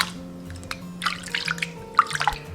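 Razor clam meat being rinsed under running water in a kitchen sink, with irregular splashing and dripping bursts over a faint tap hiss, close and fairly quiet.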